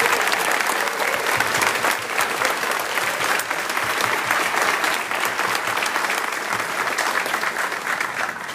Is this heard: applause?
yes